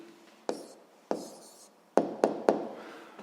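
A pen writes on paper while a seventh-grade physics exercise is solved, soft scratching strokes broken by several sharp taps as the pen touches down, close and alone.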